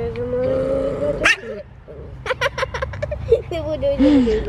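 A small female dog gives a few quick, high yips and barks in a short burst, close by, while someone talks to her in a cheerful, affectionate voice throughout.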